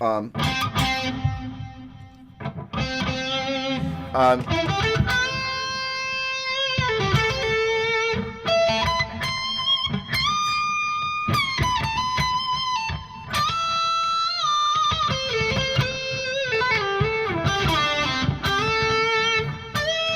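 A distorted electric guitar with its pickup set too high plays sustained notes and bends with a harsh, crunchy edge, continuous and fairly loud for the whole stretch.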